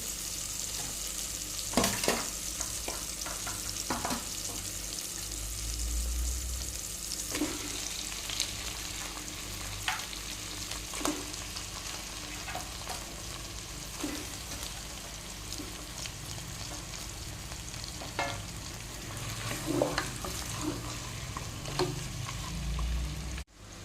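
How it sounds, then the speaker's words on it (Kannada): A chicken curry base fries in a pan with a continuous crackling sizzle, broken by occasional soft taps and scrapes of stirring, steady and moderately quiet throughout. "ನೋಡಿ ನೋಡಿ ಇವಾಗ ಇದು ಫ್ರೈ ಆಗಿ ಸಾಕು ಇವಾಗ ಚಿಕನನ್ನು ಹಾಕ್ತೀನಿ"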